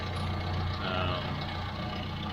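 An 1100 car engine fitted with SU carburettors idles steadily nearby, a continuous low rumble that stays even, with no one speaking over it.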